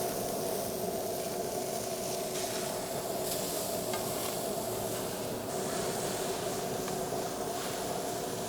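Food sizzling on a hot Kamado Joe Pellet Joe griddle, a continuous close, steady frying crackle with a faint hum underneath and no speech.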